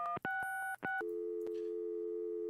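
Telephone tones in the Gabriel Knight: Sins of the Fathers adventure game, a few short beeps after a call is cut off, then a steady sustained busy-signal tone, clear and close.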